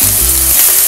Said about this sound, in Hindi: अब हम इसको लहसुन अदरक का पेस्ट डाल के इसको भूनेंगे हम अपने कीमे को